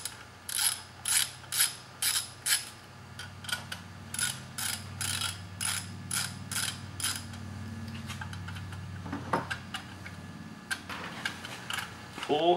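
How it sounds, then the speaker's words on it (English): A 10mm ratcheting wrench loosens airbox bolts on a carburetor, giving bursts of quick, close ratchet clicks in a steady rhythm with short pauses between strokes. "Take your 10mm wrench"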